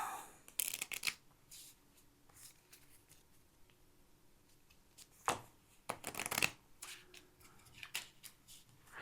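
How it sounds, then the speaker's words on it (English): Large deck of cards for the Architects of the West Kingdom board game being shuffled, crisp riffling bursts in separate clusters with quiet gaps between, close and fairly soft. "it's going to shuffle this rather large deck of cards now"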